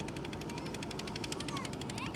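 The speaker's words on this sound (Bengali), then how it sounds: "ট্রলারগুলো চলে যাচ্ছে" Trawler boats run along the Kirtankhola river in Barishal, their engines making a steady, loud, rapid mechanical chugging throughout, with no break in the rattling pulse.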